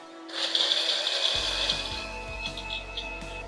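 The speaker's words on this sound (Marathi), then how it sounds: "आता हे आपण मिक्सरला लावून घेऊ." A mixer grinder whirs up to a loud, steady high-pitched blending drone as it blends a jaggery-based sugarcane-style juice with ice cubes, its motor tone shifting lower partway through as the contents churn.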